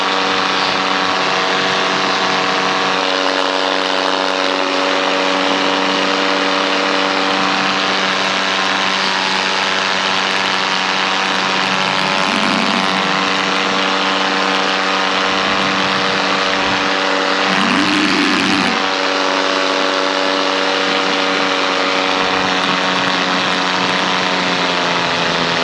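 A paramotor's two-stroke propeller engine drones steadily and loudly through the entire flight, holding a stacked harmonic whine with slight pitch wavers and brief bumps of wind buffeting around the middle; no one talks.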